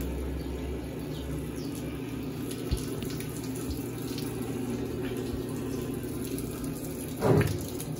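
Water drains from a Brastemp washing machine into a laundry tub, a steady running, splashing flow with faint background ticks and a brief louder gush near the end.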